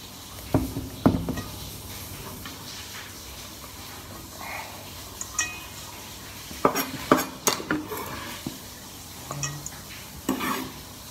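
Chopped shumai ingredients are mixed together in a bowl, giving irregular close clinks and scrapes of a utensil against the dish in short bursts with quiet gaps between them, and no one speaking.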